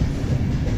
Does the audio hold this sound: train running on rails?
yes